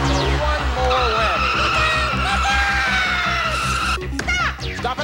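A car skidding sound effect on the Press Your Luck game show: a long, loud screech of squealing tires over a pulsing low buzz, cut off abruptly, then excited shouting from contestants and audience.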